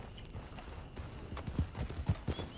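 Horse hooves clip-clopping as a rider sets off in the video game Red Dead Online, a quiet irregular patter of hoof thuds that grows firmer toward the end.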